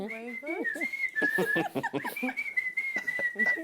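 A person whistles a wavering, sustained melody, clearly audible alongside talking and other voices throughout.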